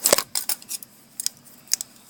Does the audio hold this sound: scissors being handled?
yes